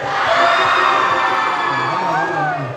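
Audience at a zapin festival cheering and shouting loudly, a dense swell of crowd yells and whoops that peaks early and eases off toward the end.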